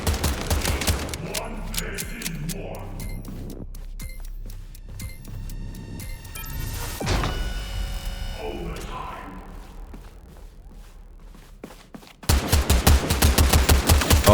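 Gunshots in the first-person shooter Blindfire come in a fast string of sharp cracks during the first seconds, then a quieter stretch before a loud dense burst at the end, with someone speaking between shots.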